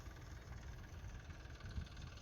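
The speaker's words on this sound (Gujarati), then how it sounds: "આમ બાજુ ચાલે છે ટ્રેક્ટર" A tractor engine runs in a farm field, a faint, distant low rumble that holds steady throughout with no talking.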